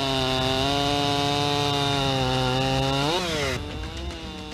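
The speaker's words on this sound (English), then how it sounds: "The chainsaw plays an important role in woodworking" Chainsaw used in woodworking for furniture making, a loud, close, steady high-revving engine drone that dips in pitch near the end as the saw bogs into the wood, then drops away.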